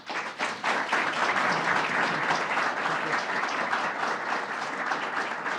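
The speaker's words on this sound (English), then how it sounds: "I want to give a round of applause to our acting superintendent" Sustained applause from an audience at a New York public safety announcement, honoring the acting state police superintendent; loud, dense clapping fills the whole stretch without a break.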